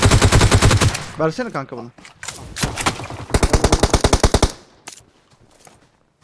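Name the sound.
gunfire from the video game PUBG Mobile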